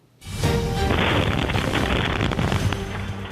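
A heavy, sustained explosion boom with a long roaring rumble, from a bombing at a fertility clinic in California as shown in news footage. It is loud and close and plays alone without talk.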